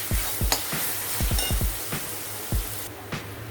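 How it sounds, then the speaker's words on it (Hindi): Onion and ginger-garlic paste fry in a hot pan, a constant sizzle broken by a quick series of scraping stirs, close up and with no talking. "अब हम ये अदरक लहसुन का पेस्ट डाल दिए हैं। ये भी हमें अच्छे से लाल करना है।"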